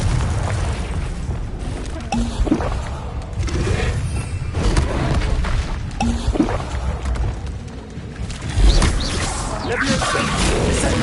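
Booming spell blasts from the Confringo fire spell in Hogwarts Legacy, several deep explosive bursts over a busy battle mix, with a voice shouting spell names over them.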